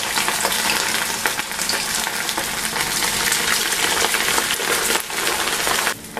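Steady, loud crackling and bubbling of ground-meat kibbeh deep-frying in hot oil in a small pot, a dense sizzle running throughout with no talking.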